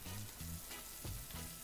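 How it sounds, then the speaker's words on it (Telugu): Cut green chillies fry in hot oil in a pan, giving a soft, continuous sizzle with faint stirring sounds, quiet and close with no voices. "ఆయిల్ హీట్ అయిన తర్వాత కట్ చేసి ఉంచుకున్న పచ్చిమిరపకాయలను వేసి 1 నిమిషం పాటు వేయించుకోవాలి"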